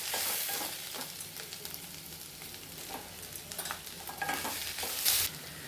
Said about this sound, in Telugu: కొద్దిగా సాల్ట్ వేసి కొంచెంసేపు బాగా వేపుకుంటాం